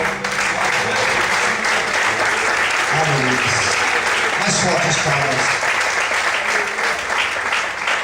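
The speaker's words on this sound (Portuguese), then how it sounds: "Você pode desocupar sua mão, aplaudir o Senhor" A church congregation applauds during a sermon, steady loud clapping filling the whole stretch while a preacher speaks over it.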